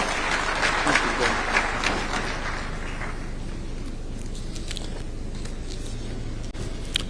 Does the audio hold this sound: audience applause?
yes